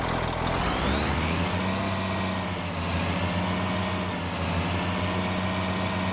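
Truck engine in the Farming Simulator 25 video game, a loud steady droning hum with a low rumble and shifting tonal whine as the vehicle maneuvers, continuous and close with no speech.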